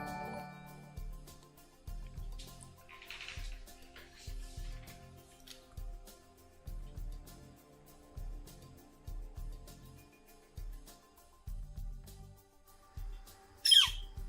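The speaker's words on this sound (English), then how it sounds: "And this is the woodpecker." A Northern Flicker woodpecker call, played as a stream alert, sounds over a steady rhythmic background track, with scattered squawks and a sharp, loud call burst at the end.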